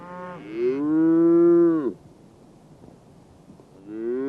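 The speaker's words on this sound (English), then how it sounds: "We found the calf 3 miles back down the trail, bawling out his loneliness to anyone who cared to listen." A lone calf bawls on a mountain trail, one long drawn-out moo lasting over a second, close and loud, followed by quiet before a second call begins.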